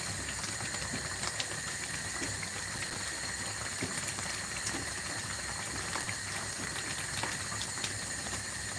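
Soft, continuous bubbling and popping of thick apple jam simmering as it cooks, fairly quiet and steady with no voices.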